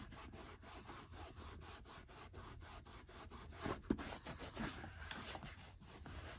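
Oil is rubbed into a leather boot with light, repeated strokes over its nicks and scrapes, making a soft, rhythmic scuffing that stays quiet and close throughout.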